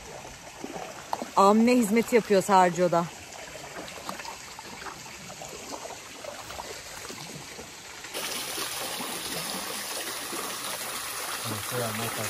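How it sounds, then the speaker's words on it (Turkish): A small waterfall flows in a very rainy region, a steady rushing hiss running beneath someone talking nearby, briefly covered by a louder burst of voice before continuing. "Minnoş bir şelale akıyor."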